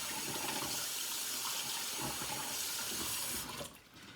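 Running water pours steadily over rice being rinsed in a pan, a continuous loud splashing stream that cuts off and drops to a quieter trickle near the end.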